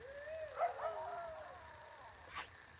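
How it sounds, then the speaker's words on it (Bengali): A dog near a river at night gives faint, wavering whines and yelps that rise and fall, sounding distant and eerie over low background noise. "এইমাত্র কুকুর ডাকার শব্দটা পাইলাম আমাদের কাছ থেকে কিন্তু।"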